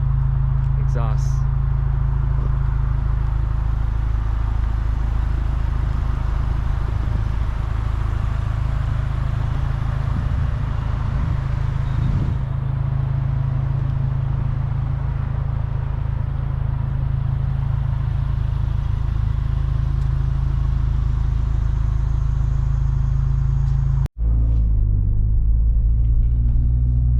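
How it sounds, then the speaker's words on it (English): Lexus IS 200t fitted with an axleback muffler-delete exhaust, a steady deep low rumble droning close and loud for most of the stretch, ending with a sudden sharp cutoff and a quieter idle tail. "Highly recommend these Axleback muffler delete exhausts."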